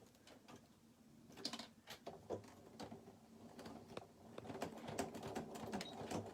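A sewing machine runs quarter-inch seams on a fabric pencil pouch with elastic, giving short bursts of rapid mechanical clatter and ticking, stopping and starting, fairly quiet and close.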